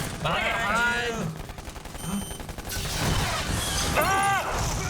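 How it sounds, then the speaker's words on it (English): Rapid gunfire and crashing impacts from the Justice League: The Flashpoint Paradox animated movie, loud bursts mixed with a dense soundtrack while people talk over it. "He's still shooting."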